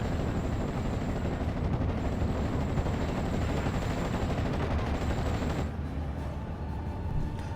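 Rapid rifle fire in a WWII strategy video game, a dense continuous volley of crackling shots with a steady roar, ending with a slight drop in intensity.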